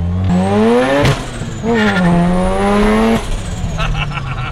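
A built Mazda RX7 engine runs on a dyno, revving hard in repeated climbing pulls with sharp breaks between them, loud and close.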